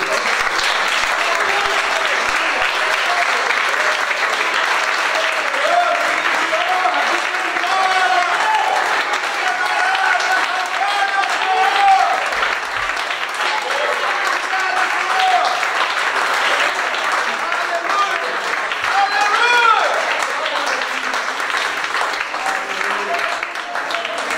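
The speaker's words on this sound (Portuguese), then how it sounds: "Vamos aplaudir o Senhor, querido" A church congregation claps together in sustained, loud applause that holds steady for a long stretch, with voices mixed into the clapping.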